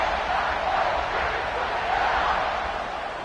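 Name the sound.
football stadium crowd cheering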